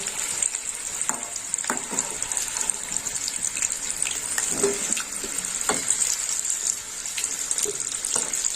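Potatoes fry in oil in a pan, a bright continuous crackle and sizzle with scattered sharp pops and scraping stirs, close and steady, no voices.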